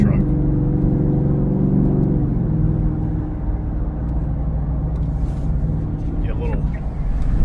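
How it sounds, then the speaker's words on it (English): A race truck engine idles with a deep, steady rumble and low harmonic drone, briefly shifting pitch near the two-second mark, heard from inside the cab throughout. "I think it sounds like a race truck personally"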